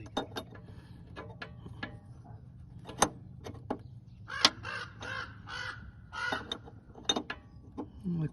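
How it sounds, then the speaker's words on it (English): Crows caw outdoors in a scattered series of harsh calls, several close and loud, over faint background noise with occasional clanks nearby, as work on the power steering hoses of a Jeep Cherokee XJ goes on. "the crows are out to spoil my video."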